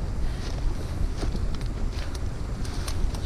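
Wind blowing through an acacia grove, a steady broadband rush with gusty buffeting against the microphone, continuous and fairly loud with no voices.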